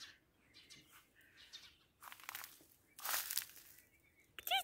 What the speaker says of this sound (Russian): Птички, чик-чик.